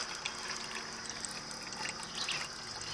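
Liquid is poured off fermenting Cherokee Purple heirloom tomato seeds, giving a soft continuous trickle and dribble with small splashes, close and fairly quiet, with no talking.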